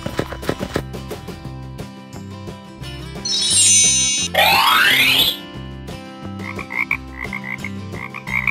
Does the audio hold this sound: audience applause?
no